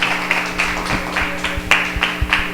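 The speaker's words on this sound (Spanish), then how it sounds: "Pónganse de pie, denle un aplauso al Señor." A church congregation standing to applaud during a sermon, with steady clapping in uneven rhythmic bursts and sharp individual claps over a low hum, moderately loud and close.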